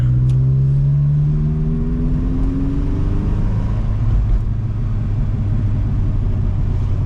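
A Mk2 Jetta with a manual gearbox accelerates at full throttle, its engine drone rising steadily in pitch before levelling into a loud, constant roar mixed with road noise from inside the car.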